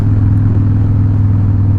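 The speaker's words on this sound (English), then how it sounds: "third gear is just idling at 60" A steady, loud engine drone with a low rumbling hum, holding an even pitch as a motorcycle cruises in third gear at 60 on open road, with no talking.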